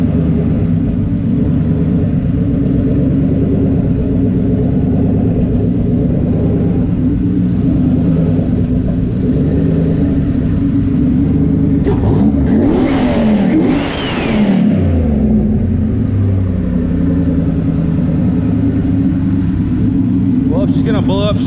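Turbocharged car engine idling with a low steady rumble, then revved sharply once midway and settling back, close and loud, with someone talking over it.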